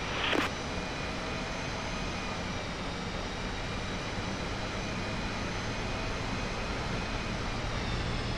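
F-5E fighter jet in the DCS flight simulator rolling along a runway, a steady loud engine roar and whine holding constant throughout, with a brief click near the start.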